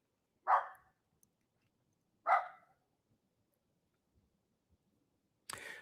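A guard dog gives two sharp, separate barks, about two seconds apart, that sound somewhat distant in an otherwise quiet setting. A brief burst of noise follows at the end.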